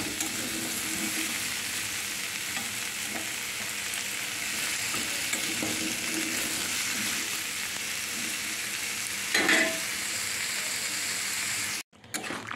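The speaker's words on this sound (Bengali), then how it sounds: "পাঁচ ফোড়ন আর শুকনো লঙ্কা দিয়ে আমি পেঁপে আর আলুটা ভেজে নিচ্ছি।" Papaya and potato pieces frying in oil with panch phoron and dried chilli give a steady, loud sizzle with occasional stirring scrapes, a brief bubbling flare near the end, then a sudden cut.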